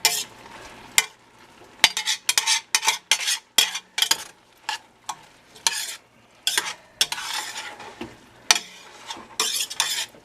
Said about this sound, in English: Okay, and then we're stirring that in.